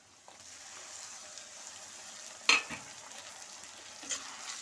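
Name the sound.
stirring tomatoes and onions in a pan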